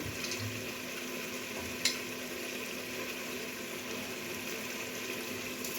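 A spoon scrapes and stirs a spiced chicken biryani mixture in a pot. The stirring is faint and steady, with a low kitchen hum and one soft knock partway through. No one speaks.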